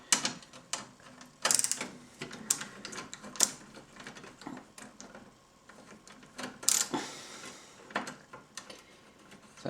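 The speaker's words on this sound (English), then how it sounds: "So take the 2 screws out." Metal screws are being removed from the metal plate of a Technika LED32-E251 LED TV during a repair. The sound is a string of close, irregular clicks, ratcheting and scraping from the screwdriver and metal, with no voices.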